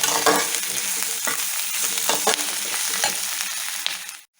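Onions sizzle steadily in hot oil, salted to soften them for a spicy duck pepper dish, with a spoon scraping and stirring through them in bursts; the frying is close and dense, and no one speaks.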